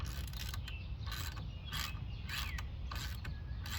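A wrench working the brake hose fitting on a 1987 Pontiac Fiero during brake repair, giving close, faint repeated ratcheting and scraping clicks in short bursts over a low steady background hum, with no voices.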